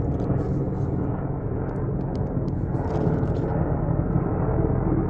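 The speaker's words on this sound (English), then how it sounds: "It's an IDF helicopter." Steady, loud low-pitched rumble of an IDF military helicopter passing overhead at the ruins of Shivta, continuous throughout with a heavy droning roar and no talking.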